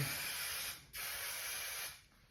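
Two bursts of a steady aerosol spray hiss, the first about a second long, a brief pause, then another, ending in quiet.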